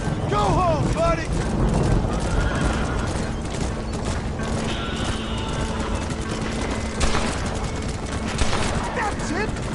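Gunfire in the Western video game Red Dead Redemption, several shots cracking out amid a busy mix of horse hooves, music and voices talking throughout.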